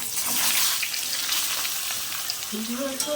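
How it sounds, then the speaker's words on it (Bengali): Potato pieces for a katla fish curry sizzle and fry steadily in hot oil in a pan, a continuous close crackle with no talk over it. "এবার ভালো করে আমি আলুটাকে ভাজতে থাকবো"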